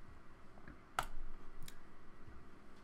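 A few sharp mouse clicks on a mostly quiet background while playing Washing Machine Simulator 2001, with one louder click and a couple of fainter ones spaced apart.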